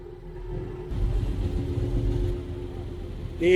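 A yellow Porsche 911 Turbo S at the Raceway Baltic circuit in Ropaži gives off a deep, steady engine rumble that thickens after the first second and swells louder in the final moments.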